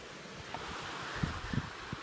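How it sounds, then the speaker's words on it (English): Wind gusts by the water on a cool fall day, a low rumbling buffet across the microphone with a few brief louder thumps, steady and unaccompanied by talk. "And it's windy."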